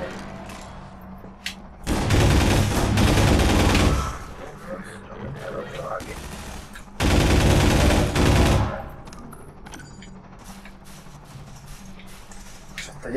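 Machine gun fire in Half-Life 2 VR comes in two long, loud sustained bursts separated by quieter stretches of game ambience and someone talking.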